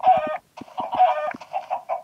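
Minecraft Pocket Edition chickens cluck close and clear, two bursts of rhythmic clucks with short flapping ticks, separated by a brief silence.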